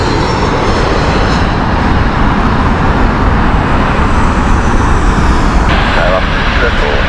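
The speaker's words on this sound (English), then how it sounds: "737 from Tehran" A Boeing 737 inbound from Tehran at Heathrow passes as a loud, steady jet roar that fills the whole stretch without a break, mixed with faint background airport hum.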